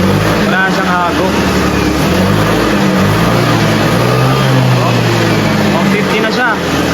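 A Honda ADV150/160 scooter engine, just after a throttle position sensor reset, runs loud and close with rising revs, while someone talks over it.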